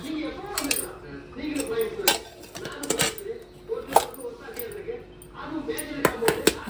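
Sambar with fish being stirred in a pot, with sharp metallic clinks and scrapes of a spoon against the vessel repeating in quick bursts, while a person talks in the background.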